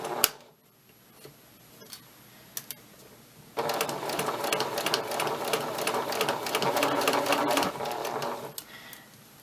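A sewing machine stitches around the curves of a collar, opening with a few isolated clicks and then settling into a steady close whirring run for several seconds before stopping.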